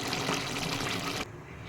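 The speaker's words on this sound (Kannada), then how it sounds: "ನಾನು ಈಗ 4 ಲೋಟ ನೀರು ಹಾಕಿದ್ದೀನಿ" Water poured from a cup into a pot for biryani rice, a steady close splashing fill that stops abruptly near the end, leaving quiet room tone.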